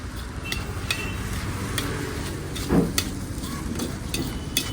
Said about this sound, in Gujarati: હવે પ્રોપર તરીકે એને સાતળી લઈએ, મિક્સ કરી લઈશું. પ્રોપર તરીકે હલાવી લઈશું આપણે.